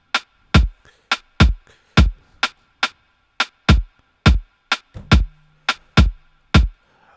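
Afrobeat drum pattern programmed in FL Studio, deep kicks joined by a crisp rim shot, looping in a steady syncopated groove of sharp, clean hits with a brief tonal hum near the middle, no voices.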